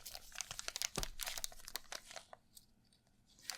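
A thick plastic bag like a Ziploc is handled during an unboxing, giving close, sharp crinkles in bursts with brief quiet gaps.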